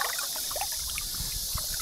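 River water flowing around someone soaking in it on a morning, a steady trickling and gurgling wash with small splashes, close by and continuous.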